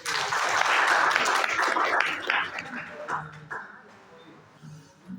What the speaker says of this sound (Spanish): Aplausos para los compañeros